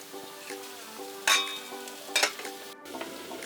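Spicy plantain slices (kelewele) fry on a stove top with a soft, steady sizzle, broken by a few sharper clinks and scrapes of stirring at close range.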